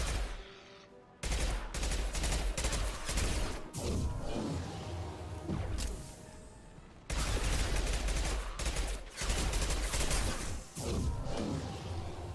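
Enemy gunfire in Mass Effect 2 on Insanity difficulty keeps coming in loud, dense bursts with cracks and impacts, pausing briefly twice before starting again.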